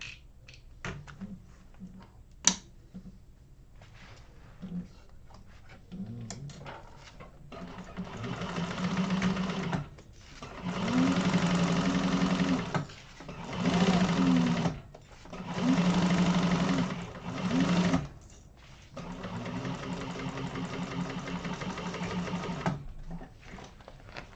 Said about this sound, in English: Do my strengthening stitches.